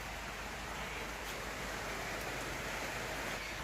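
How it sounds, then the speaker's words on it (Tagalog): Steady rain falls on a cold early-summer day, a dense even hiss that holds without pause and at one level from start to finish, with no voices over it. "Ayan, it's very raining, guys."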